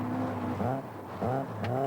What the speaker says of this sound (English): Fast left-hander. Drifting the car right round.